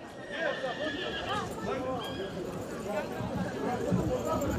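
A horse whinnies in repeated rising and falling calls at a Roma wedding gathering, with men chattering loudly throughout and nearby commotion under the voices.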